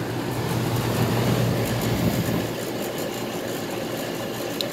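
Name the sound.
2016 Ruud central air conditioner unit running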